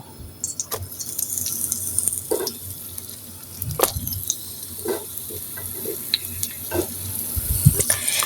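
Eggplant slices frying in oil in a frying pan, a soft continuous sizzle close by, punctuated by scattered light clinks and taps of a utensil, with no talking.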